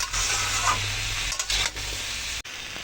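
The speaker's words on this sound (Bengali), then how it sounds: "উচ্ছে আর কুমড়োগুলো আমরা এইভাবে ভেজে নেব ঠিক এইরকমভাবে ভেজে নেবো" Bitter gourd and pumpkin slices frying in oil in a pan, a loud continuous sizzle with brief stirring scrapes, no talk.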